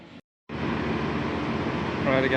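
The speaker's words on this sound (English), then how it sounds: "Right, again taking the same train, the same model of train to Cartagena" Steady broadband rumble of a moving Spanish passenger train interior, bound for Cartagena, continuous and moderately loud after a brief cut of silence.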